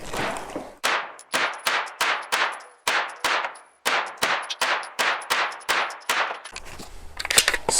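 Fifteen sharp, loud rifle shots from a Palmetto State Armory AK-V firing Federal Black Box rounds, spaced in a steady semi-automatic rhythm, each with a metallic ring, followed by a brief clatter at the end.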